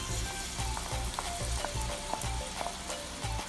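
Garlic frying in a pan until brown, with a loud close sizzle under repeated scraping and stirring knocks from a utensil, steady throughout and free of talk.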